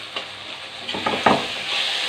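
Potatoes added to a pan of softened tomatoes sizzle and fry, with a few short scraping stirs near the middle and a steady hiss rising toward the end, no talking.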